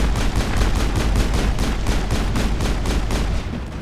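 Rapid automatic turret gunfire in the sci-fi shooter Mass Effect, a loud, steady stream of evenly spaced shots hammering continuously for several seconds before easing slightly at the end.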